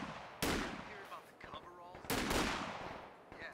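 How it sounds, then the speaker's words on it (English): Gunfire in a video game comes as two sharp, loud bursts of rapid shots, each trailing off, with quieter reports and a commentator's voice in between. "He's getting shot at"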